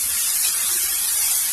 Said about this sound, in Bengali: পেঁয়াজটাকে আমি একটু লাল করে ভেজে নিব।